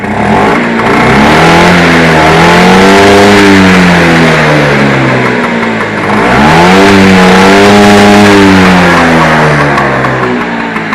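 A stock Vespa VBB 150 scooter engine running loud and close, a steady buzzing two-stroke drone that swells in two long revs and settles back, with no voices over it.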